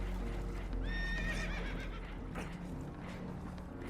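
Spooked horses whinny loudly in Red Dead Redemption 2 aboard a damaged, leaking boat, one rising neigh standing out over a busy rumbling background with scattered clatter.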